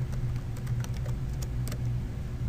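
Someone types on a computer keyboard in a brief burst of quick, close key clicks over a low steady hum, with no voices.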